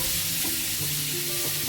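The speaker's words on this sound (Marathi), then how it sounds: "असा लालसर कांदा झाला पाहिजे आपला" Onions frying in a pan for a hotel-style matar paneer, stirred until reddish; a close, steady hiss and sizzle with a few soft scraping stirs and no voices.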